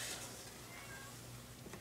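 A hungry orange cat meows at the door, faint and partly buried in a steady wash of broadband background noise.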